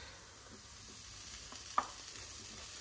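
Boiled waxy Maris Piper potatoes fry with onions in a pan, giving a steady low sizzle with a few soft stirring clicks and scrapes, close and fairly quiet throughout.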